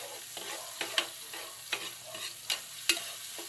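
Onions stirred in a hot frying pan, a steady sizzle broken by several sharp scrapes and knocks of the spoon against the pan, close and fairly quiet, with no talking.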